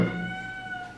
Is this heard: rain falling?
no